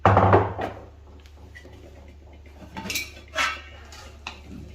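A metal lid comes off a biryani pot with a loud clatter of metal at the start, followed by quieter scraping and clinking of utensils and a few sharper knocks.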